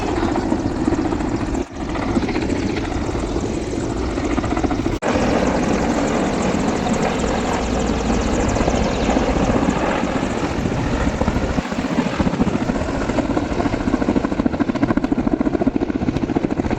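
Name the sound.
helicopter flying over Vidhana Soudha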